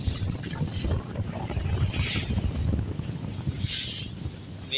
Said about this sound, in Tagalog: Medyo malakas po ang hangin dito.